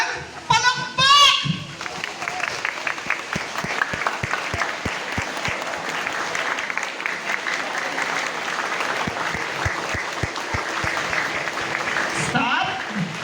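An audience at a community prize-giving event breaks into sustained, dense applause that carries on for several seconds under scattered voices and children's chatter, with a few louder individual claps standing out.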